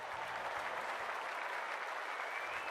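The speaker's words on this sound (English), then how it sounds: "The crowd already making plenty of noise as the captains come together in the middle" Stadium crowd at a women's Australian football match roaring before the bounce, a broad, steady wash of cheering and clapping that holds at an even level throughout.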